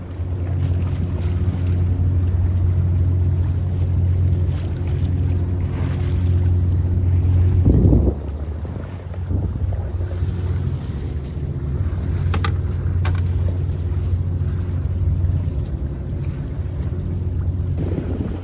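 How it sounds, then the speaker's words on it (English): Wind blows steadily over a 24-foot San Juan sailboat under a large genoa sail, a constant low rushing roar with a brief gust near the middle and faint creaks and taps on board. "Well, this wind came out of absolutely nowhere."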